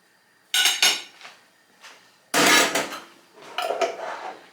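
A metal utensil scrapes and clinks against a cooking pan to knock butter off, several close, bright bursts of clattering separated by short gaps, with no talking.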